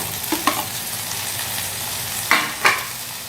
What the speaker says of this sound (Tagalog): Lagay na natin ito ating kamatis.